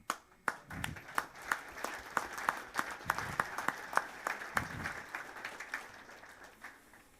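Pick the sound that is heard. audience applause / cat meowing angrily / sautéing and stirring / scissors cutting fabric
audience applause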